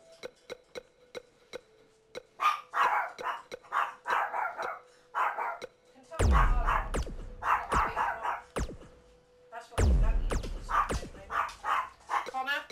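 Dog barking in the WWE 2K19 wrestling game, a run of sharp repeated barks over a faint ticking, with heavier booming impacts twice landing among them.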